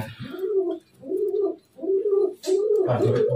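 Repeated low, throaty cooing of a dove or pigeon, four rolling phrases with short pauses between them, close and fairly loud.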